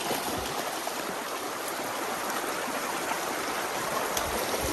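A river flowing steadily, a broad, continuous rushing wash of water close by, even and unbroken with no voices over it.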